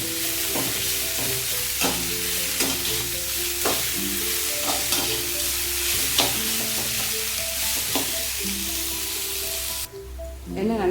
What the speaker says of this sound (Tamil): இப்போ வெங்காயம் நல்லா வதங்கும்.